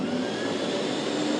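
A vacuum cleaner draws water out of a washi paper document with a steady, loud whooshing roar, close and continuous without any talk.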